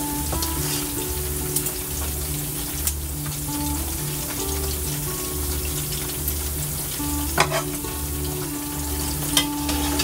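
Eggplant frying in hot oil, a constant close crackling sizzle throughout with a low pulsing rumble underneath and occasional sharp pops.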